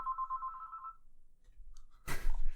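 Telephone ringing in a home, a repeating electronic trill that sounds for about a second and stops, followed by quiet room noise and a burst of handling sounds.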